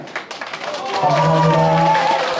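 A forum audience claps for its leaders, starting with scattered hands and then swelling into loud, dense applause, with a sustained voice-like tone running underneath midway through.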